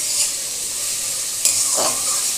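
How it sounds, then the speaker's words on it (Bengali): Boiled bottle gourd peels fry in a pan with turmeric and salt, a steady close hiss of sizzling oil with a sharp stirring scrape midway. "একটু ভাজা ভাজা হোক"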